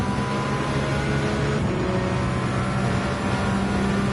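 A car engine in Gran Turismo 7 drones loud and close at a fairly constant pitch, with a slight shift partway through, and no voices.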